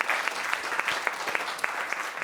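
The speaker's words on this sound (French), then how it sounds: "Je crois qu'on peut applaudir aussi." Applause from a conference audience at a space-industry symposium, many hands clapping in a steady, fairly loud patter with a few sharper individual claps standing out throughout.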